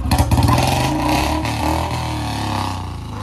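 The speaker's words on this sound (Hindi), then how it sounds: "अब इसको रेव करते हैं।" A Royal Enfield Bullet Standard 350 motorcycle, a BS4 model converted to BS3, revving its single-cylinder engine close by, a loud steady thumping roar that swells briefly at the start and then holds a sustained rumble.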